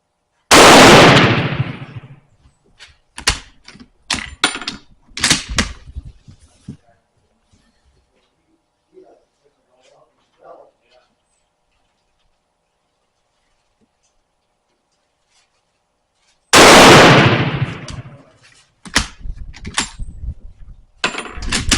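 Sharp, loud rifle reports from a worn-barrel Turkish Mauser at a target range, several separated shots at irregular intervals, with a long quiet stretch between the first group and a later burst.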